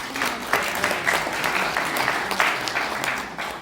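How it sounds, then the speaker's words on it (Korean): An audience at a Busan political rally gives a steady round of clapping for a regional head. The applause stays even and moderately loud throughout, with no voices over it. "박성률 본부장님 다시 한번 격려와 감사의 박수 한번 주십니다."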